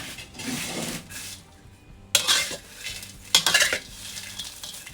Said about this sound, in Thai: จากนี้ก็คั่ววนไปนะคะ ไฟอ่อนอย่างเดียวเลยนะคะ เราต้อง คั่วตลอดนะคะ